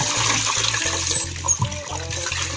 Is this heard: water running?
yes